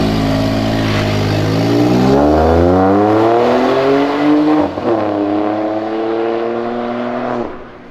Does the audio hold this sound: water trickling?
no